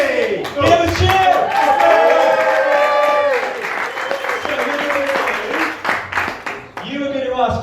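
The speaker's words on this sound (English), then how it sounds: "Give a cheer!" An audience at a comedy roast battle breaks into loud, sustained applause and cheering, a dense roar of clapping mixed with whoops and voices that holds for several seconds before tapering as talk resumes.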